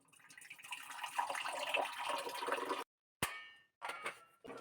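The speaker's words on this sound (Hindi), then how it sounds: "तो गर्म पानी डालते हैं इसके अंदर" Hot water pours into a cup for green tea, a continuous close splashing trickle, then a brief silence and a sharp clink followed by softer handling sounds.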